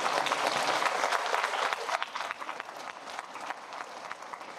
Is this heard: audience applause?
yes